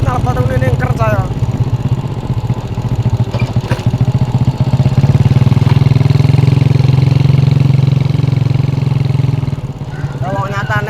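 Motorcycle with a loud aftermarket Altan exhaust on a road test, its deep engine rumble pulsing at first and then swelling into a sustained louder drone before easing off, with brief voices at the start and end.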